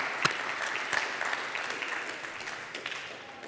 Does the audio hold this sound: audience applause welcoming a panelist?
yes